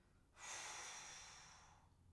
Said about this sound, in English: Take a couple of breaths here.